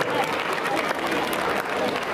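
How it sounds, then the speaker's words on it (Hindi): Students at a school Republic Day prize giving applaud in a sustained burst of crowd clapping, loud and continuous, with some voices mixed in. "ताली बजाते हैं आप लोग।"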